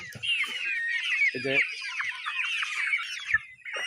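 Bahama chickens with heavily feathered legs cluck and squawk continuously as a flock waiting to be fed, a dense chorus of overlapping calls close by with a few lower throaty notes.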